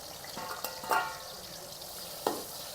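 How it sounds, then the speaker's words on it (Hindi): Onions sizzle and fry in hot oil in a kadai, a steady crackling hiss with a few stirring scrapes and clinks, heard up close without talk. "तो यहाँ पे जी कढ़ाई में हमने डाल दिया है ऑयल और अब हम इसमें डाल देंगे प्याज।"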